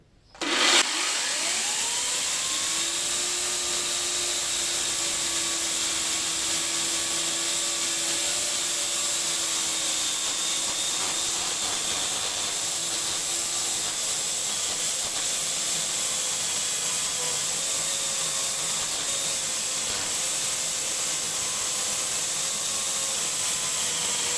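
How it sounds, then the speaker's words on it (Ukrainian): A GTM electric chainsaw runs on wet apple tree wood, starting abruptly and then holding a sustained whining motor tone with a steady hiss for over twenty seconds, no talking. "товариш буде перший раз різати ось такою електропилою"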